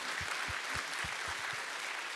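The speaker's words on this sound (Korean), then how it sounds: "하나님께 영광의 박수를 드리도록 하겠습니다" A church congregation clapping in a steady, even rhythm during a Sunday service, several distinct claps over a couple of seconds, moderately loud and without any voices.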